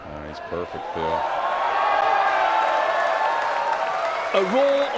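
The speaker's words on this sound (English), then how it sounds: "A roar of delight." A crowd at a pool event, the Reyes Cup, breaks into sustained applause and cheering, a dense roar swelling and holding, with a commentator's voice speaking briefly at the start and end.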